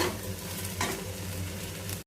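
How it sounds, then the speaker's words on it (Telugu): Okra pieces fry in oil for a hotel-style bendakaya fry: a soft, steady sizzle with one brief stirring scrape partway through. "ఆయిల్ యాడ్ చేసి ఇలా ఫ్రై చేస్తున్నాను అంతే బెండకాయలు"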